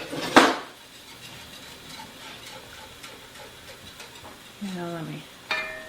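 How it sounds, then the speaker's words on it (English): A whisk stirring broccoli cheese soup in a pan, heard as faint, soft scraping and clinks, with a sharper knock at the start and a brief voice near the end. "Not so sure I like this whisk as well as I do one of the regular ones."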